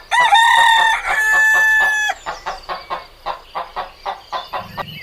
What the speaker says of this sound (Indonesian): keluarlah seekor